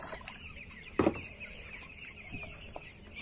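13-day-old broiler chickens suffering kidney failure, heard as a soft, steady background of faint clucking and peeping with one short, louder squawk near the start.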